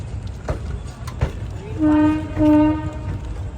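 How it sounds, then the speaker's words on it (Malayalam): A train arriving at Rajkot Junction in Gujarat sounds two loud, steady horn blasts over station rumble and faint clatter. "രാജ്കോട്ട് ജംഗ്ഷനിലേക്ക് ഇതാ ട്രെയിൻ."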